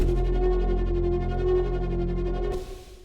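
A dark, sustained synth pad made in the Vital synthesizer drones with a low buzzing tone and eerie upper harmonics, holding steady before fading out near the end.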